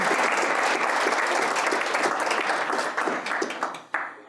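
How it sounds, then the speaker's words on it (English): An audience at a community health event applauds volunteers, with sustained dense clapping that stays strong, thins slightly near the end, and closes on a final sharp clap. "Let's give our volunteers a round of applause."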